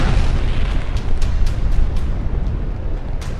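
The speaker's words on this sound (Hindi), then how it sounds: "कैथोलिक चर्च पर हुए इस धमाके ने पूरी दुनिया को हिला दिया" A bomb or tank shell blast strikes the Holy Family Catholic Church in Deir al-Balah, Gaza, heard as a loud, sustained rumbling roar with a few sharp cracks layered on top, with no speech.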